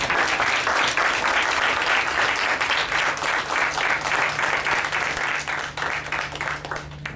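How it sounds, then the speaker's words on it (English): Sustained applause from an audience at a club meeting, dense and steady clapping close by that carries on throughout and thins slightly at the very end. "Big round of applause."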